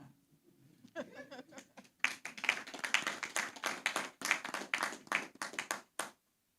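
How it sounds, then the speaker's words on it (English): A small group claps during a press conference, a burst of sharp, fairly close handclaps that swells after a quiet start and then cuts off abruptly. "I'll give you the chance to clap"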